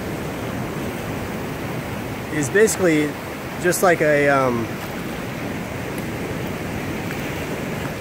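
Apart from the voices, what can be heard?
ocean waves on the beach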